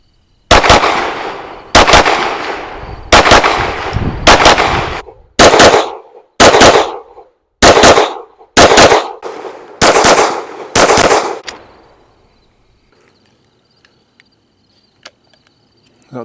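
Springfield Armory Echelon and 4.5-inch XD-M Elite pistols fire about ten loud, sharp shots at an outdoor range, spaced roughly a second apart with ringing tails, followed by quiet.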